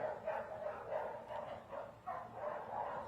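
Trooper Steve, a young shelter puppy, gives a run of soft, muffled barks and yips at a moderate distance, repeating in short bursts.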